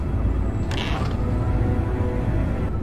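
A door creaks open in the video game Fahrenheit Indigo Prophecy, a short mechanical creak and latch sound over steady low room hum, with no talk.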